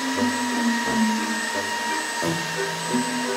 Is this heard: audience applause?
no